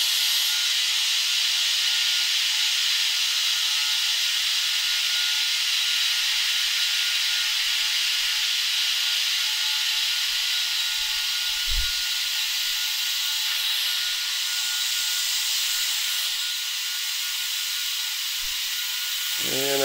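Compressed air pours into a portable air tank from a compressor, making a loud, steady, close-up hiss that lasts the whole time, with a few faint knocks underneath and a short tonal sound at the very end.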